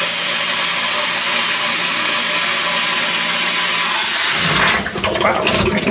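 A homemade aqua blast cabinet runs for the first time, a loud steady hiss of spraying water and motor that shifts into a rougher, splashier roar near the end, with no talking.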